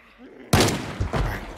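A shotgun fired in the zombie survival game Project Zomboid: one sharp, loud blast after a short quiet stretch, followed by a second, weaker burst as the echo decays.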